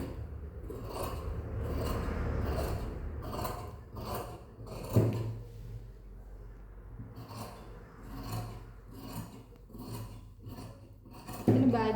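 Scissors snip and rasp through blouse fabric in a series of close, rhythmic cuts, each stroke a short crisp scrape repeating steadily for the whole stretch.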